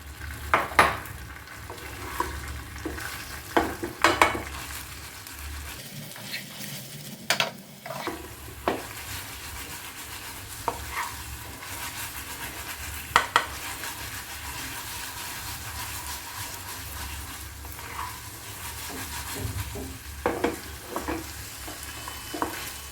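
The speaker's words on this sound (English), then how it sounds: "Mix them well and now coat the baby potatoes in this sauce." Baby potatoes are stirred in a pan of honey chilli sauce, giving a steady close sizzle with occasional scraping and clinks of a utensil against the pan throughout, no talk.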